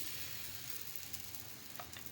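Tel poli flatbread sizzling softly on a hot griddle over very low heat, a faint steady fry with no talk.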